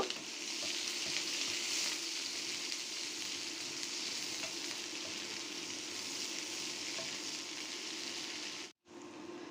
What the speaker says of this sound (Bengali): এখন দিয়ে দিচ্ছি পেঁয়াজ আর কাঁচামরিচ। পেঁয়াজ কাঁচামরিচ 1 মিনিটের মতো ভেজে নিব।